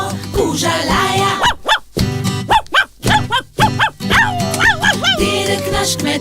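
Cartoonish dog barks punctuate a children's farm song, several short yapping barks in a row, loud and close over bouncy music with sung vocals.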